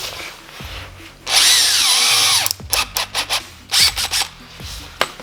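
A power drill whirs loudly and steadily for over a second, its pitch sagging under load, followed by several short bursts and stops with handling clatter, during work installing canards on a Subaru WRX.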